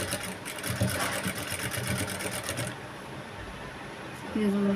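A sewing machine runs in a steady fast whir while stitching piping onto a blouse neck, pausing briefly before starting again.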